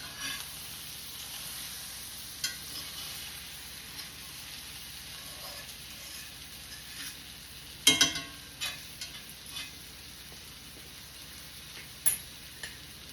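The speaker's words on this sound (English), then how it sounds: "And allow this steak to cook." Ribeye steak frying in a pan: a soft, steady sizzle runs throughout at moderate distance, broken by a few sharp ticks and clatters from the pan or utensils.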